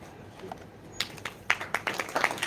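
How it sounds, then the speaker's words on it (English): Audience at a film trailer launch breaking into scattered clapping that builds into quick, uneven applause, moderately close and growing denser toward the end. "come on, we need some more round of applause"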